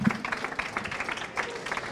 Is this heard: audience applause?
yes